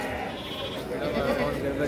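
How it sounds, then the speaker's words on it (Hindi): Goats at a crowded goat market in Ajmer, sold as sacrificial animals, bleat close by amid the hubbub of voices and people talking. "ये देखिए बड़े बकरे, बड़ा हाइटेड बकरा है।"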